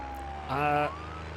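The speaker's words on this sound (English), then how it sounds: "Hello, police car." A short police car siren in the driving game BeamNG.drive wails up and down over a steady engine hum, with a brief harmonic-rich burst in the middle, fairly close.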